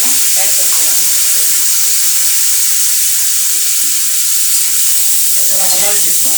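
Mustard seeds sizzling steadily in hot oil while making instant mango pickle, a constant bright frying hiss close up, with a faint voice talking briefly underneath.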